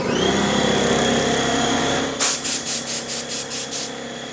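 A FIAC WallAir wall-mounted, tankless air compressor runs with a loud, steady hum, then a train of about eight rhythmic hissing pulses cuts in partway through, close by and with no talking.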